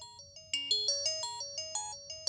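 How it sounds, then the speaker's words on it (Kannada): A phone's ringtone plays a bright electronic melody of quick chiming notes that repeat in a steady pattern, fairly clear and alone over a faint low hum in a comedy scene. "ವೆಂಕಟೇಶ್ ಫೋನ್ ಕಣೋ."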